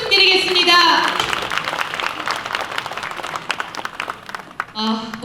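Audience applause erupts after a pansori performance by a Pyongyang-origin arts troupe at an outdoor ceremony in Paju's Imjingak, loud clapping running under a host's amplified voice as musical tones ring at the start and resume at the end.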